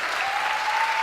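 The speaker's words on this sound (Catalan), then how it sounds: "Un fort aplaudiment de tota la gent" Loud, dense applause from a whole crowd at a live teaching event for dances, a steady wash of clapping throughout with a faint tone running beneath it.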